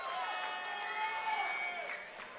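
A boxing arena crowd cheers and roars before a main event between Juan Leija and Richard Hernandez, a steady, lively wash of voices with whistles rising and falling, under a commentator's talk.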